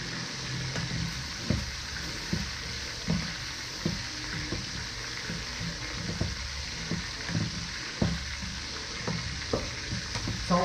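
Beef and vegetables for Ilocano ginisang gulay frying in a pan, a steady close sizzle with frequent soft scrapes and clinks of stirring and no talk.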